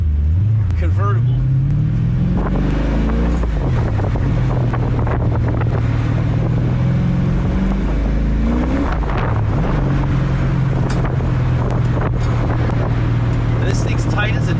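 A C4 Corvette convertible with the targa top removed cruises along, its engine a steady low drone rising and falling through shifts beneath heavy wind rush, while a person talks over it throughout.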